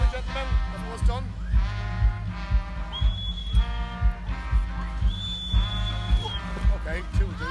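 A magic whistle at a living history display is blown in two long, shrill blasts a couple of seconds apart, sounding over steady crowd talk and background noise.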